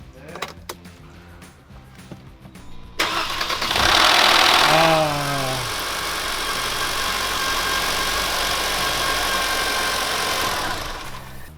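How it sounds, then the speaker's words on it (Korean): A Mercedes-Benz C200 engine cranks and starts with a loud burst, then settles into a steady idle with a faint rattling noise from inside the engine. "일단 시동 소음 먼저 한번 들어보시고"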